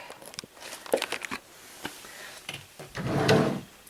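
A bottom drawer of a craft storage unit is pulled open: several close, sharp knocks and rattles, then a louder sliding rumble as the drawer runs out.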